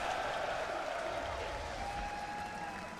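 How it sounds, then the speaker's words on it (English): Crowd applause and cheering at The International 2025 Dota 2 esports event, a broad, steady roar that stays fairly distant and fades slightly toward the end. "The crowd is going to cheer so loudly when it's in his inventory."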